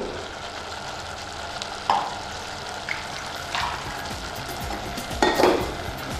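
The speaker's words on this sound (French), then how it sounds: "On va ajouter un peu d'eau." Water poured into a hot cooking pan holding sweet potato cut into thin strips, producing a continuous hiss and sizzle with a few clinks of utensil against metal, close by and without speech.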